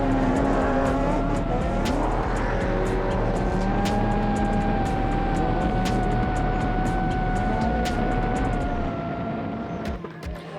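Off-road race vehicles, including a supercharged Nissan V8, race around a stadium course in New Zealand, engines roaring loudly and continuously with rising and falling revs, under a faint voice.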